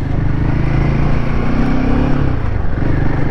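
An adventure motorcycle engine drones steadily and loudly while being ridden, a continuous low throbbing hum with small swells in pitch and no voices over it.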